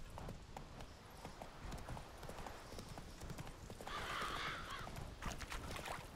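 Roach, the horse from The Witcher 3, gallops in a fast, steady rhythm of hoofbeats that stays close and loud from start to finish.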